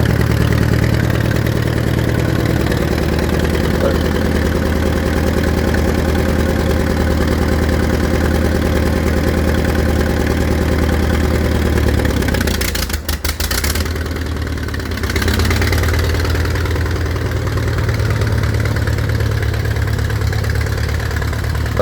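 A tractor engine idles steadily on a cold morning, a close, continuous low rumble with a brief dip and stutter partway through before it carries on evenly, with no voices.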